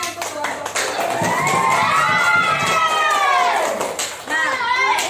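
A classroom of children claps and cheers for a winning group, with excited young voices shouting and chattering throughout at close range, continuous and lively.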